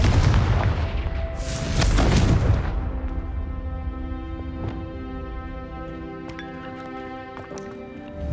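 A Confringo fire spell from the Hogwarts Legacy video game goes off with a loud, booming explosive burst in the first few seconds, then trails into a fading rumble and ringing, tinkling game ambience.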